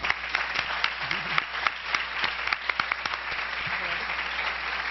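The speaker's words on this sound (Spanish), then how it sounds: "y un aplauso para esto." An audience at a panel of specialists gives a short round of applause, steady light clapping with a few sharper claps standing out, fairly quiet in a large room.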